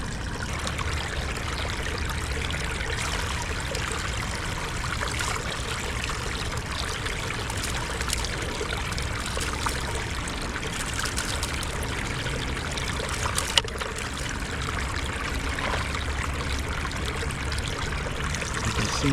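Steady rushing water pours and trickles continuously through a gold sluice, close by, with a constant splashing flow and no voices.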